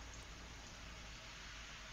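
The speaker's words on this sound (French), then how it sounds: "quand il pleut comme ça" Steady rain falling on a garden, a soft continuous hiss of drops that stays even and faint throughout.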